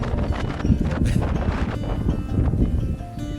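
Gusty wind buffeting a microphone on a hiking trail in Palo Duro Canyon, a continuous loud rumbling roar with irregular surges and no talking.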